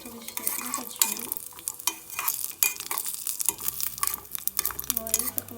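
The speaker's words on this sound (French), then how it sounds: "j'ai mis les amandes à torréfier dans cette huile" Almonds toasting in leftover melted coconut oil in a pan, with a soft sizzle broken by repeated scraping and stirring clicks of a utensil against the pan, fairly close and irregular in rhythm.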